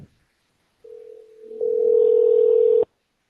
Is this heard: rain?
no